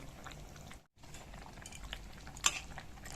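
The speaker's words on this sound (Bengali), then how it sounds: "এবার আমি দু মিনিট ফুটিয়ে নেব" A light Bengali fish curry with fish and green banana simmers in a pot, giving a soft, steady bubbling hiss throughout, broken by a brief silent gap and one sharper clink partway through.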